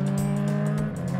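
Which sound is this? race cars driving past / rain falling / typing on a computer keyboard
race cars driving past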